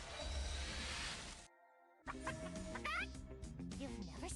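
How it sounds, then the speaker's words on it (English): Talking chicken character clucking in the mobile game Tower of God: New World, a burst of clucks with game music and effects, a brief drop to near silence, then more chirpy clucking sounds over the game audio. "we've got the talking chicken."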